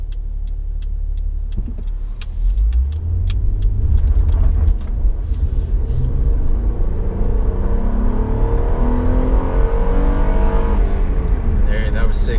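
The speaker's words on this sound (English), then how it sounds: "I'm going to go ahead and start with an acceleration just because of where I am" A 2012 Acura TL with a 3.5L V6 accelerates hard on a road, its engine rumble climbing steadily in pitch through the gears, loud and close from inside the car.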